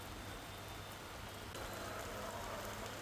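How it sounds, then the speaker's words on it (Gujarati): Steady afternoon rain falls across Nadiad city, a soft, even hiss of drops on surfaces without pause and with no voices. "railway station, bus station, mill road સહિતના વિસ્તારો છે જ્યાં વરસાદ વરસ્યો છે"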